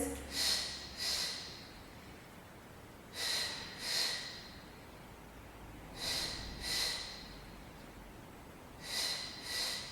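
Breathing during a children's exercise workout: repeated audible inhale-exhale pairs about every three seconds, loud and close, with no speech over the breaths.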